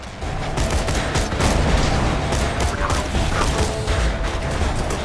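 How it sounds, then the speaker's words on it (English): Sustained assault rifle fire in the video game Borderlands 2, a dense, continuous burst of shots layered over busy game effects, loud and unbroken from start to finish. "Assault rifle seems to be doing some work."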